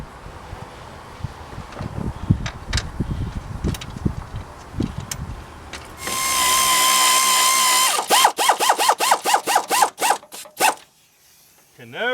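Pneumatic air tool tightening water pump bolts on a Tahoe, a loud sustained whir followed by a rapid series of sharp ratcheting bursts, close up in a garage after clanking tool sounds.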